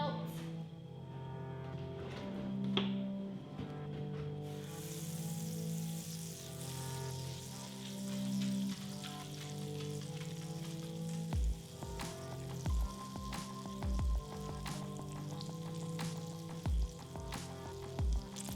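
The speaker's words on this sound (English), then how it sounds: "Let the pan heat up a bit. Put in your butter." Butter sizzling and crackling as it melts in a pan heating on a stove over medium heat, a continuous close hiss with scattered pops and some stirring or clatter near the end, no talk.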